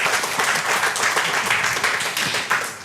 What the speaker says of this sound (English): Please give yourself some applause.